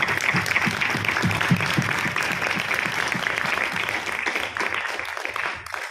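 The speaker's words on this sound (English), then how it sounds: "please join me in a big applause to the Indian people and to this country" Audience applause at a democracy program event, a thick, continuous round of clapping from a crowd that holds steady before tapering off near the end.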